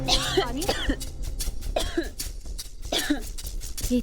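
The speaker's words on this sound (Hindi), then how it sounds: "ये इतना खांस क्यों रही है?" A woman coughs repeatedly in close, harsh bursts with throaty rasps between them, a sustained fit of coughing heard without any talk.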